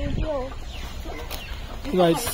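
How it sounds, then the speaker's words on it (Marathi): Chickens cluck in short bursts close by, with a steady background hum and some faint voices mixed in. "आपल्या कोंबड्या आहेत"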